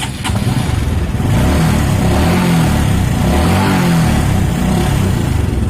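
A carburetted Honda Supra X 125 R motorcycle engine runs steadily and loudly close by, its low rumble rising and holding as the throttle is revved over the idle.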